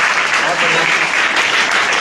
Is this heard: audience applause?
yes